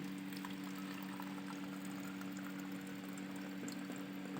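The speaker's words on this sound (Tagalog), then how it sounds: "buhos lang natin to." Water pours in a steady stream into a water dispenser with its compressor bypassed, a soft continuous splashing over a low, constant background hum.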